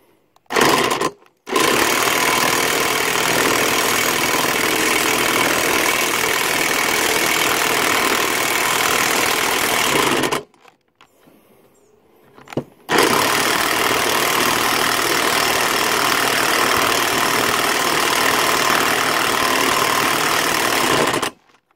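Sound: Harbor Freight impact wrench pulling out cylinder head stud

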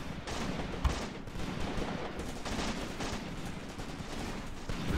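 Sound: gunfire from soldiers returning fire, video game Graviteam Tactics

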